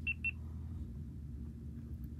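A GoPro Hero 10 Black gives two quick, close electronic beeps while pairing with a phone, then a quiet room hum follows.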